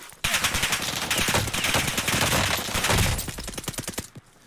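Rapid automatic gunfire in Call of Duty Warzone, dense bursts of sharp cracks rattling almost nonstop for about four seconds, loud and close, then cutting off.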